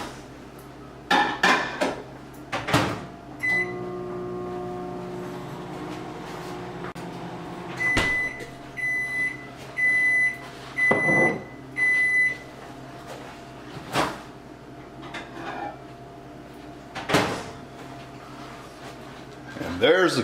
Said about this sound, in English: Now, we're going to take and stick it in the microwave for 30 seconds.